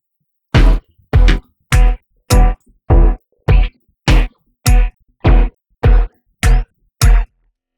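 Audio run through the Noisebud Peach plugin at 100% wet becomes eleven loud, evenly spaced noisy bursts, each a short, dense, processed thump with silence between.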